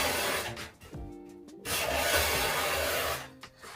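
A card scraper drawn across a 2x6 of ordinary construction lumber gives two long, loud, coarse rasping strokes close by, separated by a brief pause, with no talking.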